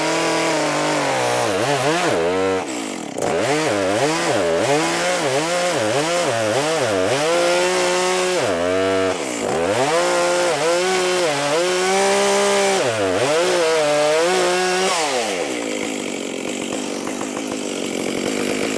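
A chainsaw with an aggressively ground chain cuts into a beech tree, loud and close. The engine revs up and bogs down repeatedly as it bites into the wood, then drops away near the end.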